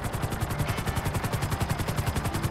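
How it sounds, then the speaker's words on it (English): A helicopter in a multiplayer video game, its rotor chopping in a steady rapid pulse with a loud, continuous engine whine, heard close and alone without talk. "Because I have a helicopter."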